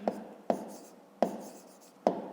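Pen or chalk strokes tap and scratch out handwritten numbers in a math exercise, four sharp evenly spaced marks with soft scraping between, close and quiet.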